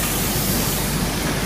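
Faux leather spray line machinery running, a steady loud broadband hiss and hum of spraying equipment filling the clip without a break.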